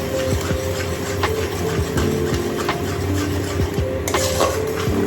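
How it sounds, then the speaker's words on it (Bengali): A spatula stirs a small pinch of black cumin (kalonji) tempering in hot oil, making repeated scraping strokes against the pan over a constant low hum. "সেই তেলের মধ্যে দেব কালো জিরে ফোড়ন, একদম সামান্য দিতে হবে। নাড়াচাড়া করতে হবে।"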